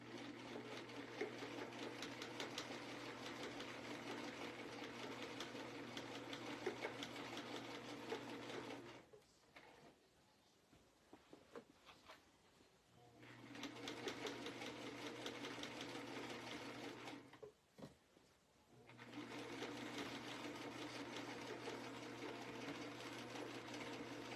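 A sewing machine stitches through a denim jacket in quick, even runs, with two short pauses between bursts; the mechanical whir is steady and nearby, with no voices.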